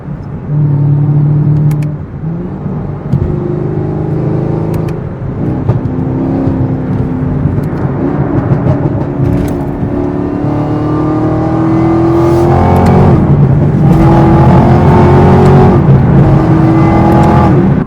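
A tuned Chevrolet Camaro ZL1 pulls hard through the gears in traffic, its loud engine note climbing in pitch, dropping at each shift and climbing again, growing louder and more sustained toward the end.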